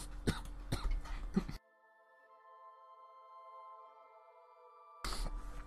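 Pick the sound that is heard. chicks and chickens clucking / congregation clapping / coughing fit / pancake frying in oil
coughing fit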